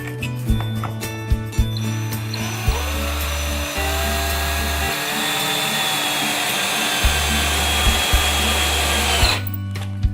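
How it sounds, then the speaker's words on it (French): An electric screwdriver whirs loudly in several sustained runs with brief stops and pitch shifts as it drives screws through pallet wood slats into a rafter, with a few sharp knocks between runs. "Donc on va fixer vis, visseuse."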